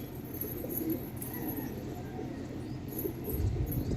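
A flock of pigeons that has just landed coos softly and steadily close by. The bird sounds are low and continuous, with faint chirping in the background.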